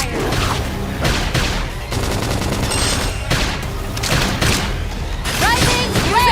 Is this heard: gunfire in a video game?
yes